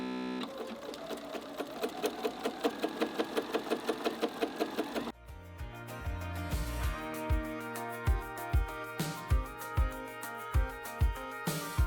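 A sewing machine runs a securing, decorative stitch along the edge of a large jelly roll tote bag, a regular chattering pulse of stitches, then a pause before a slower, uneven run of louder needle strokes.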